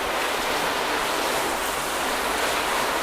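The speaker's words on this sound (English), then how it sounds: "So I did actually just hose it down" A hose sprays water steadily over a car, rinsing down a finish coated with ceramic-style products during a first wash; a loud, continuous broadband hiss with no pauses and no voices.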